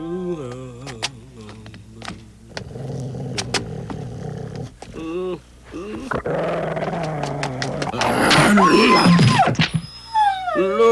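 A cartoon dog growls and snarls in a Tagalog-dubbed Doraemon episode, starting with short rumbles and building into a loud, sustained growl near the end.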